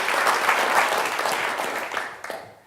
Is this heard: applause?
yes